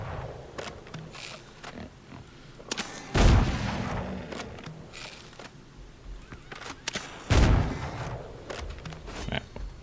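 Two loud, booming gunshots ring out several seconds apart in the Windrose pirate survival game, each with a heavy low blast over quieter background game sounds.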